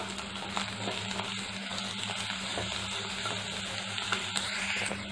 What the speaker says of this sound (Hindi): इप्पुडु इंदुलो अल्लं वेल्लुल्लि पेस्ट वेसि फ्राई चेसुकोवालि।